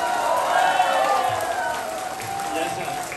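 Applause and cheering from a rally crowd at Derek Tran's campaign event, a steady wash of clapping and shouts with harmonic whoops on top, loud and continuous throughout with voices mixed in.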